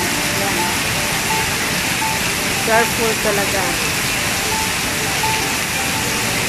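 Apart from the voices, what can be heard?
heavy rain at the National Stadium, Singapore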